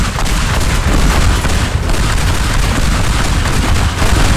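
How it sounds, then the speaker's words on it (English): A grenade blast tears through a huge mansion in the voxel demolition game Teardown, a loud, sustained roar of booming explosions and crumbling debris running without a break. "I'm gonna throw a bomb. A grenade. Blow the entire place up to the ground."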